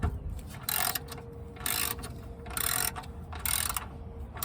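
Ratchet wrench working loose a van's oil drain plug during a home oil change, giving four bursts of rapid clicking about a second apart over a low steady background hum.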